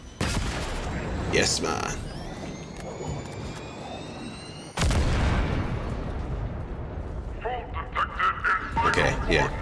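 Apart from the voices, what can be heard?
explosion in the video game Halo Infinite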